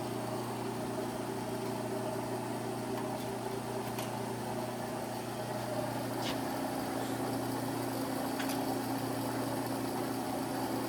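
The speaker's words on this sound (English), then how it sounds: "That's the hydraulic motor for the table." The hydraulic table motor of an Arter EG-103 OD grinder runs with a steady, quiet mechanical hum and drone, unbroken apart from a few faint clicks.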